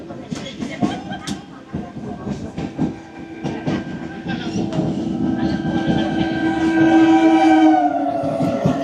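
A passenger train bound for Hasnabad runs steadily from Durganagar station, with continuous rumbling rolling noise, rhythmic clattering, and a squealing wheel tone near the end, while voices murmur under it.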